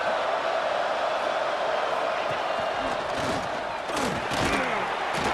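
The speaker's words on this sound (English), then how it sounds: "And here comes the noise. This crowd is trying to inspire this defense to make a big red zone stop." A college football stadium crowd roars steadily on third down in the red zone as the fans try to fire up the defense, a dense and continuous wall of noise.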